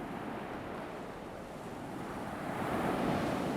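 Ocean waves wash steadily onto a beach shore in a continuous broad roar of surf, swelling slightly louder near the end, with wind noise and no voices.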